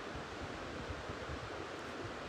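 Steady, broadband rush of flowing river water in an outdoor natural setting, continuous and even at moderate level with no talk over it.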